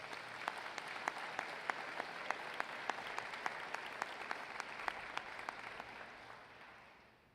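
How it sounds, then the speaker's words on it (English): An college convocation audience gives sustained applause, dense hand clapping that holds steady for several seconds and then fades gradually, with no talking over it. "Let's give Melissa a round of applause."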